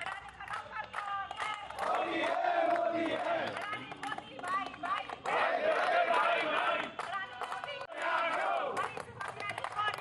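A crowd of Aam Aadmi Party workers chants slogans in loud, rhythmic bursts of many voices at a protest, the shouts rising and breaking in repeated waves with scattered clapping.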